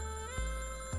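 Synthetic tones of a telephone ringing in the video game Hot Tin Roof: The Cat That Wore A Fedora, a steady, fairly faint ring with a sharp accent partway through and another at the end.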